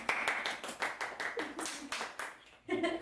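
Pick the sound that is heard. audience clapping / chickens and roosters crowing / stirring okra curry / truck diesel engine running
audience clapping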